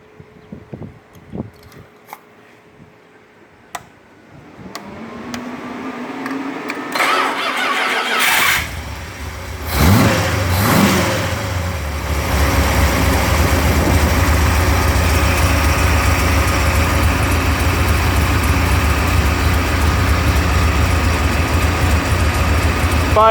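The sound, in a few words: 1976 car with HP 440 engine running at idle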